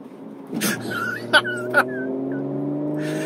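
A 2019 Audi RS5 Sportback accelerates through a right turn, its engine holding a steady rising drone with brief tire squeals, heard from inside the cabin with no talk.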